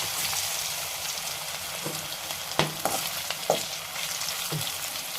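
Okra sizzling and frying in coconut oil with curry leaves in a pan, a steady hiss broken by a few sharp crackles and pops as pieces go in, close and alone.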